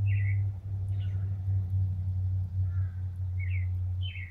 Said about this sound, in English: Hear this bird?